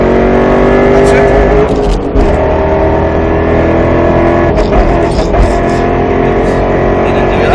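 A Roush Mustang RS3 powers around a race track at Speed Vegas, its engine droning loud and close from inside the car with rises under acceleration, while an instructor talks over it.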